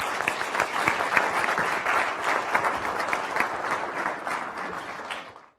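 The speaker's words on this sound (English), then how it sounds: "can we just applaud these two contenders once again?" Audience at a spring symposium debate applauding the two contenders, steady dense clapping from a crowd that fades out at the end.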